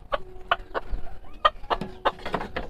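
Polish hens clucking close by in a backyard coop, a run of short, evenly spaced clucks, loud and clear with no talking.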